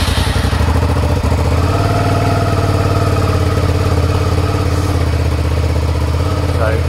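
A Suzuki SV650 motorcycle engine fitted with a quieter exhaust runs steadily nearby, its loud, even throbbing idle holding throughout with a light mechanical clatter.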